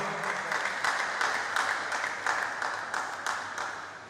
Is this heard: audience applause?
yes